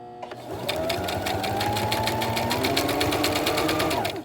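A sewing machine runs a zigzag stitch on fabric for a face mask, its rapid, even mechanical chatter starting abruptly and holding a steady pace close by, with no talking.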